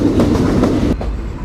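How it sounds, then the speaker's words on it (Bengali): The Shimanto Express rolls into Bheramara railway station, a loud close rumble with rhythmic wheel clatter that drops slightly in level near the end. "আমরা এই মুহূর্তে প্রবেশ করছি ভেড়ামারা রেলওয়ে স্টেশনে"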